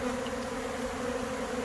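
Honey bees swarm around a small partial frame of honey during a robbing frenzy, giving a continuous close, even buzzing with no break.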